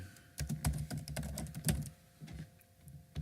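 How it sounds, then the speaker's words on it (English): A short burst of typing on a computer keyboard, quick uneven key clicks close by and quiet, pausing briefly before a few final taps, with no voice present. "Just gonna type my name in here real quick."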